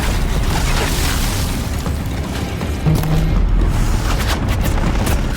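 A machine component bursts apart in Horizon Zero Dawn, a loud booming blast layered over a dense rumble of battle noise that continues steadily around it, with a sharper surge about midway.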